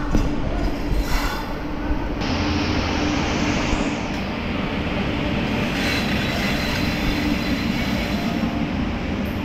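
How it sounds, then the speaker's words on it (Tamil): A suburban train rumbles steadily into platform 8 at a Chennai station on the Beach–Tambaram line, a continuous loud roar of wheels and engine with a brief higher whine partway through. "இங்கே பார்த்தீங்கன்னா உங்களுக்கு 8th பிளாட்ஃபார்மில் ட்ரெயின் வந்துட்டுருக்கு."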